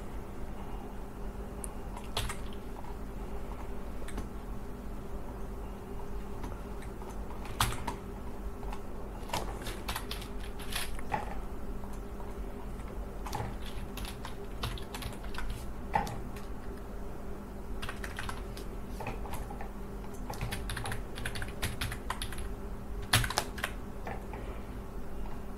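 A web address is typed on a computer keyboard in quick, uneven bursts of soft key clicks over a low, steady room hum, faint and close.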